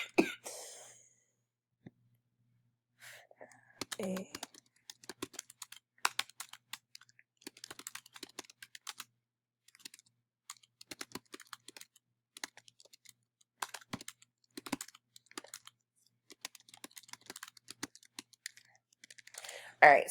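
Soft, quick clicks of typing on a computer keyboard as a class announcement is written, irregular bursts of keystrokes with brief pauses, close and quiet.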